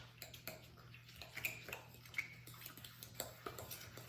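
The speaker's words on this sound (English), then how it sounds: "I'm gonna break this up with a fork though, before I start whisking it" A fork scrapes and taps against a bowl while breaking up a brownie batter mixture, quiet irregular clinks and scrapes close by.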